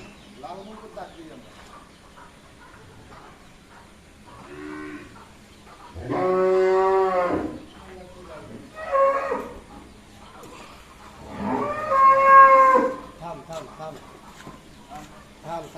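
A large Brahman bull lows several times in long, loud, resonant moos, with quieter low grunts and faint background sounds between the calls.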